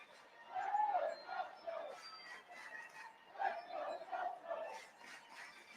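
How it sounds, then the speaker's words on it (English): Baseball crowd at a Coastal Carolina game during a bases-loaded, two-out inning, a dense wash of cheering and overlapping voices that swells and dips in waves for several seconds. "And that's the Coastal Carolina crowd you hear."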